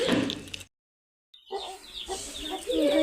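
Chicks being bought cluck and cheep close by, with a brief silent gap midway before the fowl calls resume and continue to the end.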